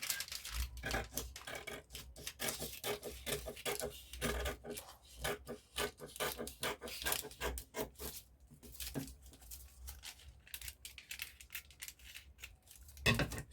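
Scissors snipping through fabric while cutting out a halter neck maxi gown with a keyhole neckline, a dense run of short, close crisp cuts and rustling cloth with brief pauses.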